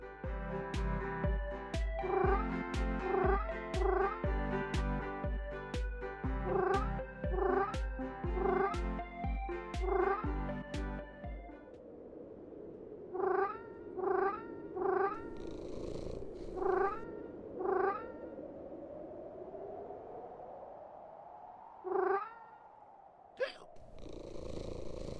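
Cat meowing repeatedly in short, rhythmic, musical cries that at first come in a fast, even series over a low droning background, then grow sparser and softer, with scattered meows and a long rising-and-falling purr-like tone.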